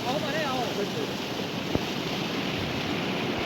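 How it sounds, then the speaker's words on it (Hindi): A waterfall pours down on the route toward Kedarnath, a continuous broadband rush of water with a faint voice briefly audible early on. "ये आपको एक आबशार दिख रही है, पानी की धारा, और इसी का एक जल संगीत भी है"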